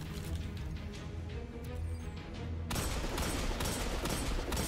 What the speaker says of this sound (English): we're just gonna keep firing and hit everyone